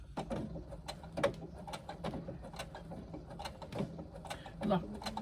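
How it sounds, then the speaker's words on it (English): Industrial sewing machine stitching a fabric wristlet near a zipper, sewing in place to lock the thread: a steady run of quick mechanical ticks over a low motor hum, close and moderately loud. "Sewing in the one spot, locking in the thread."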